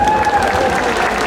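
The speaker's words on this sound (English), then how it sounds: "First, a very kind and sweet applause for Peggy." Audience applause at a Comic Con Brussels panel, a steady, dense wash of clapping from a crowd filling the hall, loud and continuous throughout with some voices mixed in.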